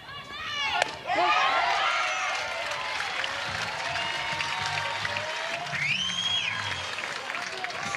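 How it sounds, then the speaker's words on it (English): Softball fans at an NCAA game between Washington and Louisiana break into derisive applause after a first-pitch strike call. The crowd clapping rises sharply, then settles into a steady, moderately loud wash under a commentator's voice. "The derisive applause from the fans for a first pitch strike call from the plate umpire."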